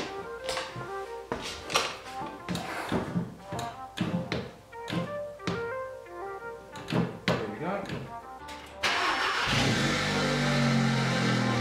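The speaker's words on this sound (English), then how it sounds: "I've just got to pump the brake pedal" Brake pedal being pumped inside a 2016 Audi S3 after a rear brake replacement: about a dozen firm, rhythmic thunks close by, followed by a steady broadband rush near the end.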